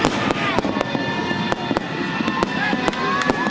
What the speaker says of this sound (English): Fireworks explode in the sky over Camden as the city held its Freedom Festival.